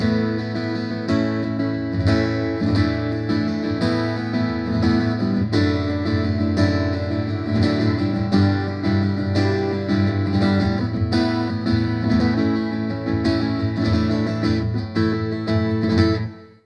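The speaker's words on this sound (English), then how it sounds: "it's a mix of the chorus effect that we heard earlier and the room reverb" A sustained electric guitar passage through an AS100D, combining chorus and room reverb: a shimmering, doubled tone with a roomy reverb tail, played continuously at steady loudness with no talking.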